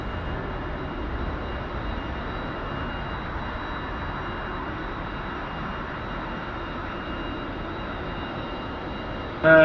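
A jet aircraft taxis in the DCS flight simulator game, giving a steady, fairly quiet engine hum with a faint high whine that holds even and unchanging throughout, with no voices.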